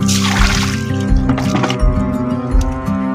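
Food being washed by hand in a basin of water to rinse dirt off the peels, with close, steady sloshing and splashing and a few dull knocks against the container.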